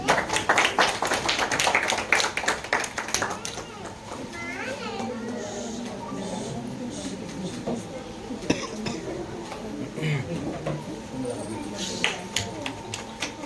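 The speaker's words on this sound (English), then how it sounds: "A big round of applause, please." At a convocation ceremony for a tailoring and fashion design institute, a burst of audience clapping lasts a few seconds, then gives way to chatter, children's voices and scattered taps.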